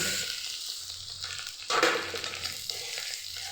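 Lentils (dal) fry in a pan with chopped ginger for a pea and potato khichuri, a steady close sizzle with a louder scraping burst of stirring partway through.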